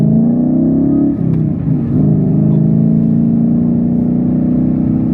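A Shelby GT350 Mustang engine revs hard and loud, holding a steady roar for several seconds with a brief dip early on as the throttle shifts, no voices present.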